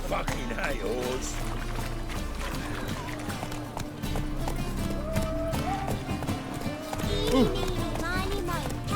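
Horse galloping in The Witcher 3: Wild Hunt, steady rapid hoofbeats running under game music and a voice speaking, with a brief whinny near the end.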